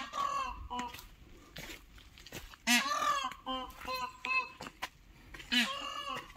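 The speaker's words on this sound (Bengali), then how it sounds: "তো এগুলো ময়ূরের ডাক, এটা রাজহাঁসের ডাক না।" Peafowl cry out loudly in a lakeside park where geese are also kept. Several sharp, nasal, wailing calls come in irregular bursts and repeat close by.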